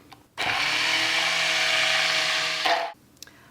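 A steady motorized whir runs for about two and a half seconds while beet salad seasoned with salt and pepper is mixed quickly in a bowl, loud and close, starting and stopping abruptly.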